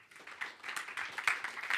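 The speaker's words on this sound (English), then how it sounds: "So please welcome Yury with a broad round of applause." An audience at a tech talk claps to welcome a speaker, a dense patter of many hands forming steady, moderately loud applause throughout the short burst.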